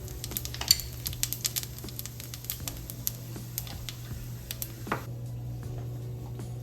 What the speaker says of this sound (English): I'm going to take about 1 tablespoon of fennel seeds